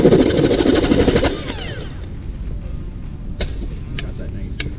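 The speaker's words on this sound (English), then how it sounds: "To deburr this, deburr machine, and what I'm gonna do is put it on." A deburring machine chamfers the edges of a metal piece with a loud grinding buzz for just over a second, then quieter handling clatter with a few sharp clicks follows.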